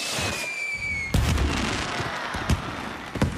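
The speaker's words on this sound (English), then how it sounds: "Thomas waited in the castle station and watched the fireworks." Fireworks bursting over a castle station at night in a children's train cartoon: a whistling rise ends in a loud crackling burst, followed by further sharp pops and booms, nearby and without speech.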